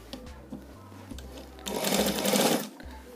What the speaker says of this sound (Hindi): इसको बिल्कुल किनारे की सिलाई लगाएंगे